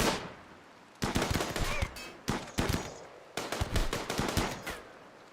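A RimWorld shootout fires dense bursts of rapid gunshots in two clusters separated by a short lull, loud and close, with sharp cracks overlapping into rattling volleys.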